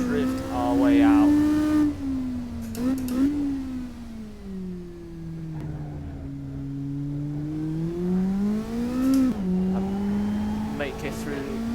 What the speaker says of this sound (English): As we slide through this corner and make our move up into the lead, drift our way out.